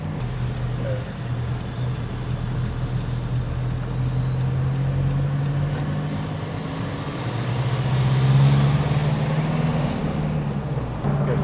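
A tuned 4WD pulls in third gear, its steady engine drone rising slightly as it accelerates, with a faint whine climbing over the run and a louder swell near the end.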